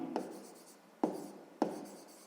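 A pen writes out a sixth-grade math solution in three short, distinct strokes spaced about half a second apart, close and quiet with nothing else heard.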